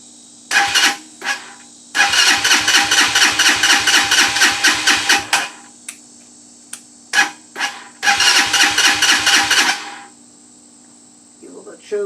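A 2019 Hawk 250 dirt bike engine sputters through repeated start attempts, with short bursts of rapid firing pulses and a longer run of a few seconds, loud and close, then dropping out between tries.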